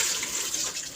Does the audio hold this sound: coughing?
no